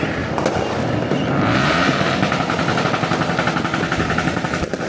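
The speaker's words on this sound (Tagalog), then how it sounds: "Ganda ng fireworks" New Year's fireworks bursting around midnight, a dense, continuous crackle and popping of many explosions at mixed distances, loud and unbroken with rapid firecracker-like rattles throughout.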